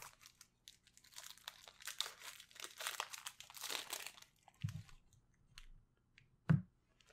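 Foil wrapper of a Magic: The Gathering Oath of the Gatewatch booster pack being torn open, soft crinkling and crumpling for several seconds, close and quiet, ending in a couple of sharper pops near the end.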